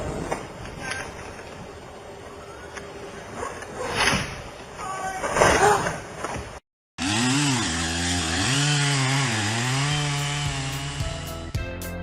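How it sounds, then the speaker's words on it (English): Stihl MS 660 chainsaw cutting into a large old oak tree in a forest logging setting, a loud buzzing roar that cuts out briefly, then returns with a rising and falling engine pitch under load. "the Style MS 660 chainsaw was the perfect choice"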